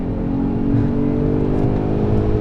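Steady engine drone with a low rumble and slight rise in pitch, heard from inside a nitrous-equipped Mercedes E350 AMG accelerating to pass an RV.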